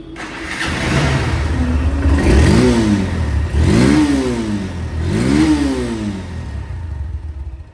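A second-hand Honda CB Hornet double-disc motorcycle idles with a low throb, then revs up three times in quick succession, each rev rising and falling, loud and close.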